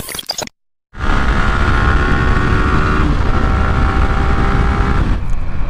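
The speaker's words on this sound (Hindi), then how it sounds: "तो भाई फाइनली अपनी बाइक स्टार्ट हो चुकी है।" A motorcycle engine that had trouble starting now idles steadily and loudly close by, a continuous hum after a brief gap of silence, then cuts off near the end.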